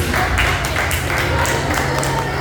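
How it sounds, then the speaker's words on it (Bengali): A crowd at a Pohela Boishakh cultural program claps steadily in a dense, even wash of applause. "জোরে হাততালি দেবেন প্লিজ"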